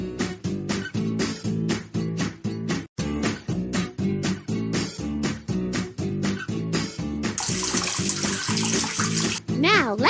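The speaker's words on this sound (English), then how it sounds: "Now let's water the smallest box." Water pours in a kids' video game as the smallest vegetable box, planted with corn, is watered: a steady splashing rush in the last couple of seconds, following a bouncy looping game tune.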